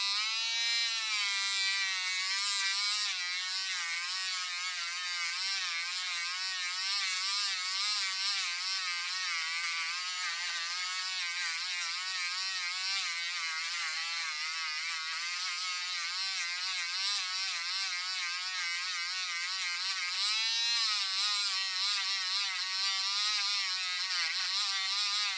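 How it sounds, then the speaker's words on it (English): Lower-speed rechargeable Dremel with a new buffing wheel polishing the plastic handle of a Vaco K-23 screw-holding screwdriver, a thin continuous high buzz with slight wavering pitch, steady and close with no voices. "We switched to the lower speed rechargeable Dremel and a new buffing wheel for the plastic."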